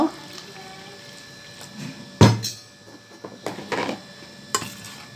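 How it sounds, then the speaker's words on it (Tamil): Wet stirring and scraping of wheat dosa batter mixed with water in a bowl, with a clatter of utensils against the side and liquid sloshing, close by. "இப்போ கொஞ்சம் தண்ணி விட்டு நல்லா கரைச்சி எடுத்துக்கலாம்"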